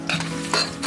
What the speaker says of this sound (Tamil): பட்டை லவங்கம் பொரிஞ்சு மேலே வந்துட்டுச்சு